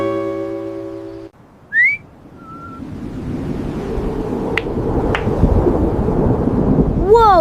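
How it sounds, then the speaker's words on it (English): A deep, sustained roar of thunder rumbles and swells for several seconds after a brief tonal sound, loud and close with a low rolling texture. "Whoa, that thunder was loud!"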